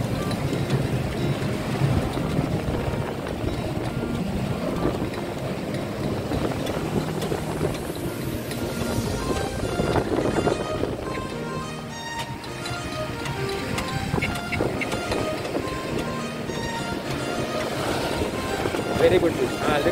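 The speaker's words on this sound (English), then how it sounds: "Look at the waves. Beautiful waves." Ocean waves wash and churn around a small boat on a ride at Kashid beach, a steady roar with a rumbling engine underneath and voices talking over it.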